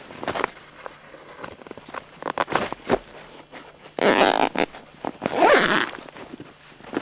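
A zipper on the side of a catfish weighing sling with aluminium cross struts is drawn shut in two quick rasping strokes, loud and close, after softer handling rustles and taps.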